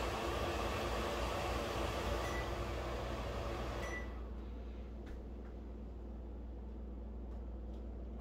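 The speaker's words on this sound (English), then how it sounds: "Vent fan works." A GE microwave vent fan runs with a steady, close whoosh. Partway through it drops to a quieter, lower hum and keeps going, with a few faint clicks.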